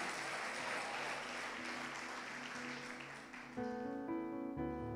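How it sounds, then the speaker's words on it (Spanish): A church congregation applauds during a sermon, a soft, fairly distant wash of clapping that gives way to sustained musical tones in the last second or so. "Dale un aplauso"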